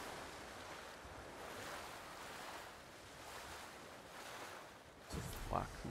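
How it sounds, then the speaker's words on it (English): Ocean waves in the video game Ghost of Tsushima wash and roll in a continuous, soft surf with gusty wind. A slightly louder surge breaks near the end. "Dude, that is so cool how the water pushes you. The waves, like, move you to one side."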